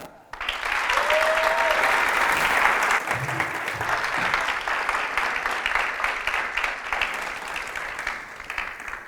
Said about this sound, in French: applaudissez encore une nouvelle fois pour elle